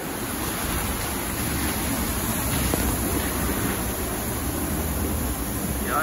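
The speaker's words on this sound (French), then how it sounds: "Les vents peuvent atteindre les 144 km/h et soulever des vagues déferlantes qui viennent s'écraser sur les stations balnéaires." Strong wind roars over crashing waves on the Norwegian coast, a dense, constant wash of noise with no break and no voices.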